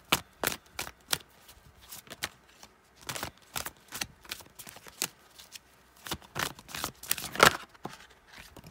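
Oracle cards being shuffled and drawn during a tarot-style love reading, a run of crisp close riffling bursts and soft card slaps in uneven rhythm, with no talking.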